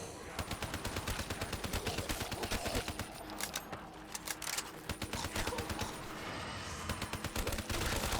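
An auto turret fires sustained rapid bursts in Call of Duty zombies, a dense mechanical rattle of shots running through nearly the whole stretch, fairly faint and steady with short gaps between volleys.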